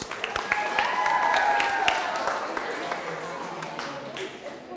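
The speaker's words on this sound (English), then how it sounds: "Everybody give yourselves a round of applause" A room of student leaders at a National Honor Society training applauding themselves, a wash of clapping with distinct sharp claps on top while a voice talks over it and a tone rises briefly.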